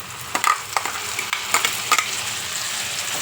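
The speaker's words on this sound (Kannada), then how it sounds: "ಈಗ ನಾವು ರುಬ್ಬಿಟ್ಕೊಂಡಿದ್ವಲ್ಲ ಅದನ್ನು ಹಾಕೋಣ ಬನ್ನಿ." Ground tomato and coconut chutney paste goes into a hot pan and sizzles steadily, with a few sharp scraping stir strokes rising above the hiss, close up and with no talking.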